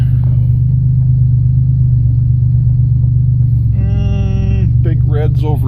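A farm vehicle's engine rumbles steadily and loud throughout, a deep continuous drone close by, with a brief higher whine or horn-like harmonic tone rising near the end over the idle.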